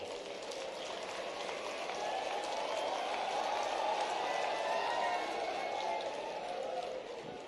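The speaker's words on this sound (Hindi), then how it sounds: "जोरदार ताली आपके लिए भी बजाओ" A crowd at a public ceremony honoring BAMS doctors serving in tribal areas claps in a dense, sustained burst of applause that swells and holds for several seconds.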